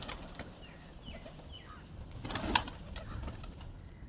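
Pigeons give soft, faint coos, and there is a brief flutter of wings near the middle as the birds take fright, all quiet and close.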